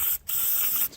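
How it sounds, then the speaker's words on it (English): Carburetor cleaner sprays in a sharp, loud hissing burst into the throat of an OMC outboard motor carburetor, briefly stopping once before continuing close up. "Spray some down the throat."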